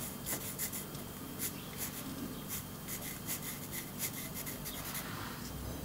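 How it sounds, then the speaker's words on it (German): A pencil draws lines around a wooden tobacco pipe blank, producing a steady scratchy rubbing with short repeated strokes, close and quiet, with no talking. "Ich zeichne mir die Mittelachse ein, ringsherum, und dann die Linien"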